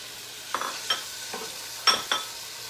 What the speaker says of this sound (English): Okay, so I'm gonna add my mushrooms in now